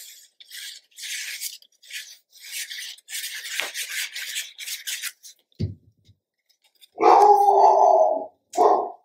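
A dog indoors lets out a loud, drawn-out bark followed by a shorter one, after a stretch of rhythmic rasping and scraping from paper crafting work.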